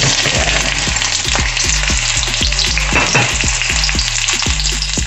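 Onions fry in a pan for a seafood dish with a loud, steady sizzle close by, punctuated by regular scraping knocks of a utensil stirring them.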